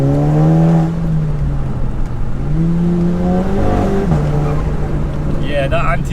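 A 420 bhp VW Golf GTI Edition 30 with an anti-lift kit accelerates at full throttle in second gear from inside the cabin, its engine note rising loudly and steadily with a brief shift dip, and a voice speaks near the end.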